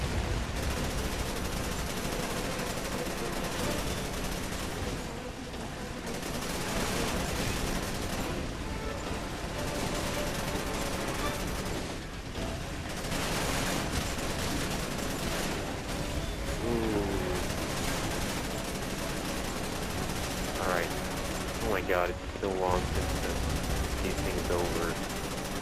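Sustained machine gun fire rattles on and off for the whole stretch in Resident Evil 6, dense and steady amid other combat sounds, with voices speaking over it.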